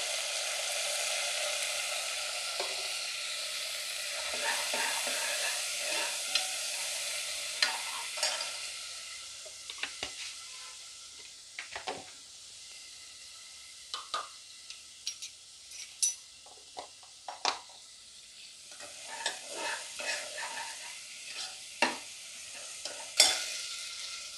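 Garlic paste and asafoetida fry in a pan with a steady hiss of oil, broken by frequent scraping and clicking of a spoon stirring close by.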